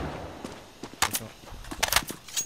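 Gunshots in the video game CS:GO, a few sharp cracks spaced about a second apart, mixed with quieter game sounds and occasional talk.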